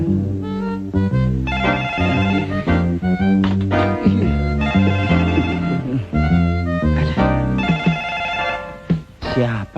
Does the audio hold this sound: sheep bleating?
no